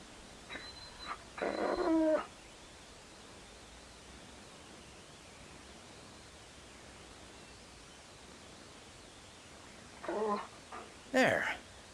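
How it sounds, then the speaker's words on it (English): A dog whimpers in the video game Alan Wake, with short soft whines near the start and again near the end, separated by a long stretch of quiet background. "Shh. That's a good dog."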